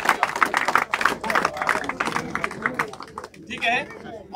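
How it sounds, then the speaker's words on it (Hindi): Audience clapping at a hockey final's prize ceremony in Rourkela, a quick ragged patter of many hands at moderate distance, mixed with crowd murmur and speech. "जोर से ताली बजा भाई"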